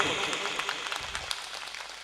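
Audience clapping at a live devotional comedy show, a quiet diffuse patter of many hands, fading slightly after a louder start.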